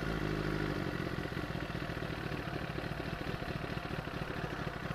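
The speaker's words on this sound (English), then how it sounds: "Sounds like, feels like the idle's just down just a little bit." A 2000 Kawasaki ZX6R sport bike idles close by with a steady, slightly low, rapid mechanical clatter and engine pulse that continues unbroken throughout.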